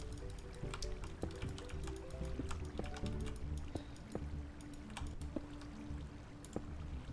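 Water spilling in a Minecraft build, heard as steady soft dripping and trickling with wet squishy plops, close and fairly quiet, mixed with light clicking throughout.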